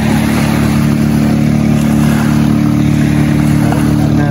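A boat's twin engines run loud and close, a steady, dense droning rumble that holds evenly throughout without pause.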